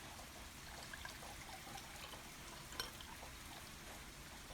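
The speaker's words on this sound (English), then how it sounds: "Let me pour you a cup of tea here." Tea is poured into a cup, a soft, quiet trickle of liquid running steadily for a few seconds with a small clink partway through.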